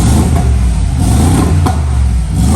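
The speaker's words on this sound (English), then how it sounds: "it's got an exhaust system on it and downpipes already, which again, by the magic of the internet, we can now hear." A Mercedes G-Wagon fitted with an aftermarket exhaust system and downpipes revs loudly and close by, a dense, continuous throaty roar that swells slightly without any talk.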